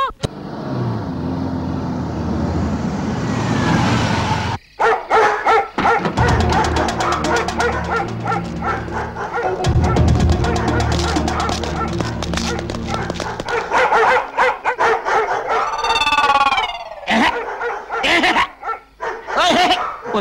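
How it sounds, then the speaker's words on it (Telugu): Several dogs bark loudly and in close succession, competing with one another in a scene from a Telugu action drama film. The barks come in dense, repeated bursts near the listener, with a vehicle rumbling underneath. "ఇటు కుక్కలు ఒకదానికి ఒకటి పోటీ పడి అరుస్తున్నాయి"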